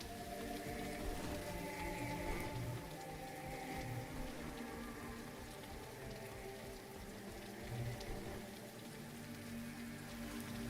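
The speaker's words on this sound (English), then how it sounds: "The rain is really going for a while here." Steady rain falls in a video game level, a dense continuous patter over the whole stretch, mixed with faint background game music and no talking.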